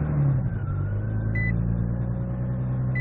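Nissan G35 engine with a DIY oil catch can starting and settling into a steady idle, a low rumbling drone with a faint whine above it, heard close and without talk.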